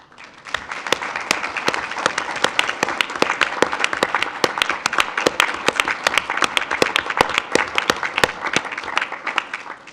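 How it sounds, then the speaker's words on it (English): Parents and staff at a school district board of education meeting clap loudly, a sustained round of sharp, close handclaps from a roomful of people lasting the full ten seconds. "let us give you a round of applause"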